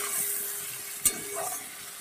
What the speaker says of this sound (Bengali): একসঙ্গে আলু মাছ আমার কিন্তু ভাজা হয়ে গেছে